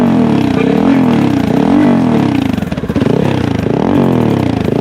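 A Loncin SX2 250 motorcycle with a modified exhaust runs close by. It gives a loud, rumbling idle with rhythmic throttle blips that rise and fall, and a brief dip near the middle.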